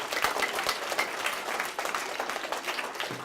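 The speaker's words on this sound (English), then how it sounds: "I want to give our volunteers a big round of applause for coming up here" An audience applauds volunteers at a science talk with steady, fairly dense clapping from a crowd indoors, lasting a few seconds.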